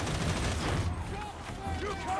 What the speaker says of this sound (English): So I'm using the Columnus auto infantry gun, which I think is a really solid one.